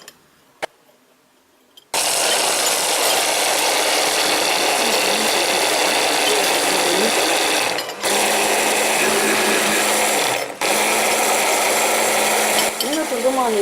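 A kitchen blender grinds onions, garlic and chili peppers into a hot table sauce, starting after a short quiet lead-in and running as a loud steady whir with brief dips near the middle and end.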